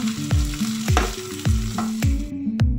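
Chopped tomatoes dropped into a pan of light-brown onions and cumin frying in oil, loud steady sizzle with repeated clanking stirs of a utensil against the pan, no voices.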